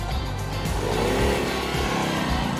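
A nearby Indian motorcycle engine roars steadily as it revs, a loud continuous throaty drone with no talk over it.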